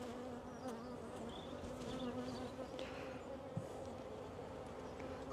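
Honey bees hum and buzz steadily around an open hive being inspected, a dense, continuous drone with no talk.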